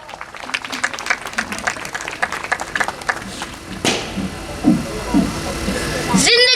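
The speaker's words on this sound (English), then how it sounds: "Give her a big round of applause." Applause rises from a crowd at New English High School's annual social gathering in Congress Nagar, Nagpur, as a steady patter of clapping that gives way midway to voices speaking over a fading room murmur.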